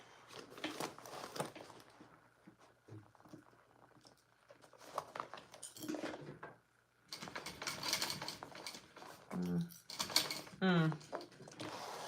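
A sewing machine with bobbin trouble runs in short stop-start bursts of rapid stitching mixed with clicks and whirring, interleaved with someone talking nearby.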